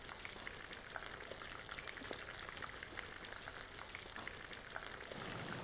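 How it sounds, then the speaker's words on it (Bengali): Cinnamon powder being stirred into a Bengali koi fish curry in a pan, giving a steady, even sizzle and bubbling with faint scraping throughout, fairly close and with no talking. "এখন ভালোভাবে মিশিয়ে দিচ্ছি।"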